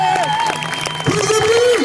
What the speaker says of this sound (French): Je vous demande d'applaudir l'Alligator et Olivier!